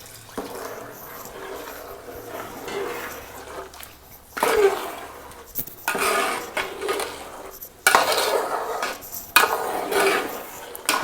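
Coconut milk pours into a pot of ada pradhaman payasam and is stirred, giving a soft liquid wash with a ladle scraping and knocking in bursts, close by with no talking.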